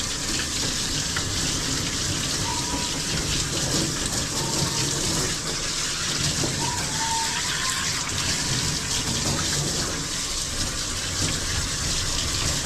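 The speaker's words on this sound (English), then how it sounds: "Make sure all that soap is rinsed out so we don't cause skin irritation." Steady running water sprays close and continuously while soap is rinsed from a dog during a grooming bath, an even rushing hiss with no voices.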